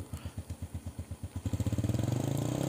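A motorcycle left unused for three days starts on its electric starter: slow, even cranking pulses speed up and the cold engine catches into a steady, fast idle, close by with no talk.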